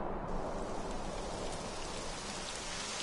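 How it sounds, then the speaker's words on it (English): Steady rain falling in the video game Dragon Quest XI, a dense continuous hiss of rainfall that sets in at once and holds at an even, fairly loud level throughout, with no voices. "It would have to go and start raining, wouldn't it?"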